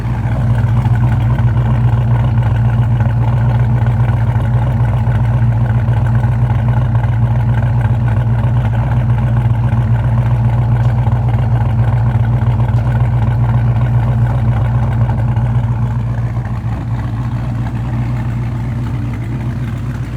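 A Dodge Charger Scat Pack 392 exhaust idles steadily and loudly, a deep, rumbling, low throaty drone that holds without pause throughout.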